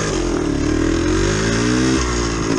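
A Yamaha DT360 motorcycle on a road revs steadily, its engine pitch sliding up and down through gear changes in a loud, close, continuous drone with no talk.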